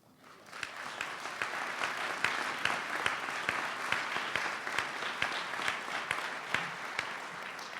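Audience applause at a Brown-Forman Foundation grant event in Louisville, rising quickly into steady, crisp clapping close by that carries on evenly for several seconds.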